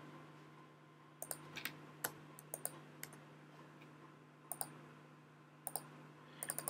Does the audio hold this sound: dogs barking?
no